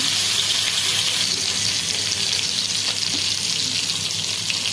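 Pieces of boal fish fry lightly in a pan, giving a steady, close, hissing sizzle that holds evenly throughout with no talk over it.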